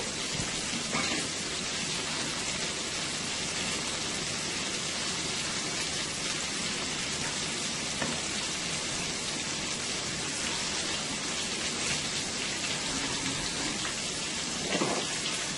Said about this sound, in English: And the shrimp, guys, will only take about 2 minutes to fry.